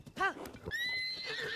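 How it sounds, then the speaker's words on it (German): A horse in the game The Legend of Zelda: Tears of the Kingdom gives a short, loud whinny followed by a quick snort and hoof sounds, alone and close. "Mit dem Pferdchen reiten wir jetzt dahin."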